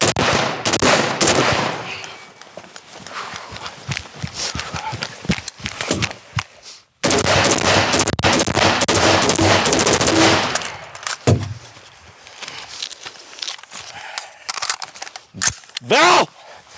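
Rapid bursts of automatic gunfire from a Colt 733 Commando short carbine, loud and close, with fast rattling shots in long strings, brief gaps, scattered single cracks, and people talking and reacting in between.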